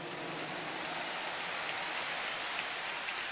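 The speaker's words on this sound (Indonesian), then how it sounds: "Tepuk tangan buat semua yang hadir di sini." Crowd applause at a large political rally in a stadium, a dense, continuous hiss of many hands clapping at steady, fairly distant volume with no talk over it.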